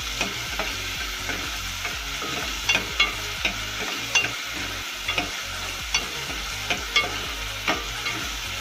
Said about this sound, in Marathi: हा कांदा आपला चांगला लालसर होईसर परतायचा।